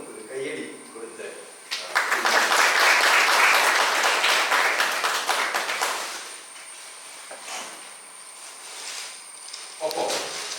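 A church congregation at Sunday worship breaks into applause for a few seconds of dense, loud clapping that fades into an echoing hall, with a voice speaking before and after.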